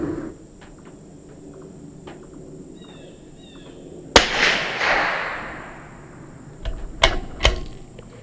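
A rifle fires Federal bulk ammunition outdoors. One sharp loud crack rings out with a decaying echo, followed by two more close shots a few seconds later over faint insect chirping.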